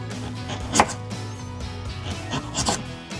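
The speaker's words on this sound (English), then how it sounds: "Chop the end off." A knife chopping the end off a potato on a board, one clear close knock followed by a couple of softer cuts over a steady background hum.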